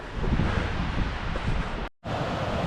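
Steady wind gusting along a mountain trail in Rocky Mountain National Park, a broad, loud rushing roar that fills the clip, broken by one brief dropout near the end.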